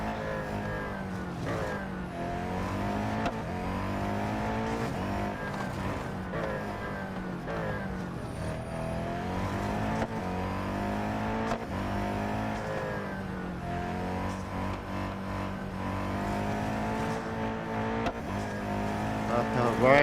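Race car engines in the Real Racing 3 mobile game drone and rise through gear changes in a steady, continuous whine, and someone talks over them throughout.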